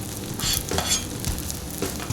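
Onion and green pepper sizzle on a Blackstone griddle while making a breakfast omelet with bacon, a steady close hiss with light stirring and scraping throughout.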